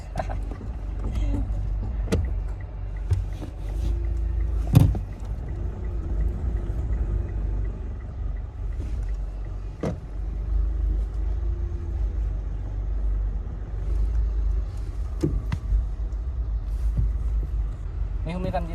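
A Mitsubishi Montero Sport with a manual transmission and hydraulic clutch drives along, giving a steady low engine and road rumble inside the cabin, broken by a few sharp knocks and clicks, with a voice at times.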